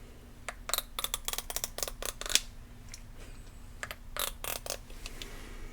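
A green comb back-combing hair, giving quick bursts of dry scratchy strokes in close, crisp rhythmic runs with a brief pause midway, no talking.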